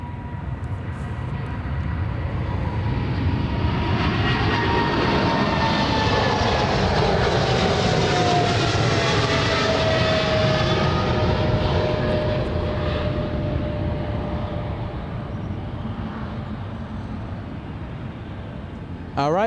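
FedEx cargo plane at Ted Stevens Anchorage International Airport: a loud, sustained jet engine roar that swells as it passes close by and then slowly fades, with some talking in the background.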